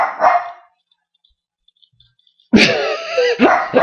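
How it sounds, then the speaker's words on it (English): A dachshund dog barks twice, loud and close: a short bark at the start, then silence, then a longer, more sustained bark that runs to the end. "the doggy."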